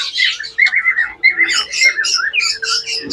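Australian doves call close by in a quick series of high, chirping and whistling notes, with faint low sounds beneath.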